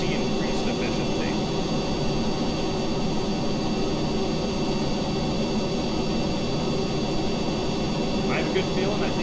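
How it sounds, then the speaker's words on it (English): A Rapier jet engine on a spaceplane in the Kerbal Space Program video game roars as a steady, dense broadband jet rumble that holds unbroken throughout, loud and continuous. "Now that I have my Rapier engine in automatic mode, we should see increased efficiency."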